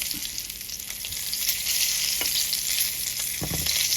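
Duck breast sizzling loudly in its own rendered fat in a tilted pan, a constant close hiss broken by spoon scrapes and splashes as fat is basted over the meat, no voices.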